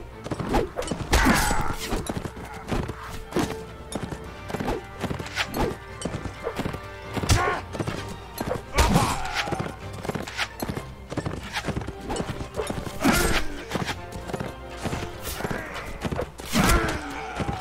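Hooves of a horse clip-clop steadily in a Mount & Blade Warband medieval tournament, a rapid repeating beat that stays close and loud, with occasional whinnies and clashing battle noise around it.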